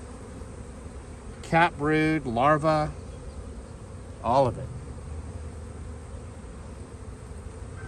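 Honey bees hum steadily around a lifted hive frame during a spring brood inspection, a low continuous drone running under close voices that talk in short bursts.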